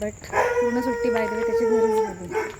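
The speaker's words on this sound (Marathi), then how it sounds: "कुत्रा भुंकतोय" A dog nearby gives a drawn-out, howling bark while a person talks over it.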